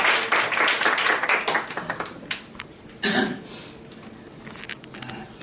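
Applause from a church congregation at a Friday service, welcoming a guest who stands up; dense clapping fades over a couple of seconds into scattered claps, with a brief swell of noise midway.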